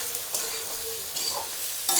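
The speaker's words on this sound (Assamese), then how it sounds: "মছলাটো অলপ ভাজি ল'ম।" Masala spices, cumin powder, coriander powder and turmeric, fry in a pan for masala khichdi, giving a steady close sizzle broken by a few scraping stirs, with no voices.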